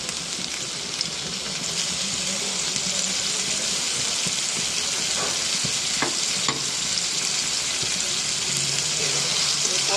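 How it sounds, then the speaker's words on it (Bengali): Mola fish frying in a pan, a steady loud sizzle that fills the whole stretch, with a few sharp pops and faint clinks of a utensil near the middle. "এবার এটা ভাজার জন্য কিছুক্ষণ অপেক্ষা করি।"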